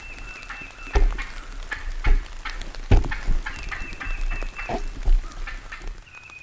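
Wild turkey gobblers call outdoors during spring turkey season, probably two different birds: repeated loud, rattling gobbles break out at intervals over steady background noise.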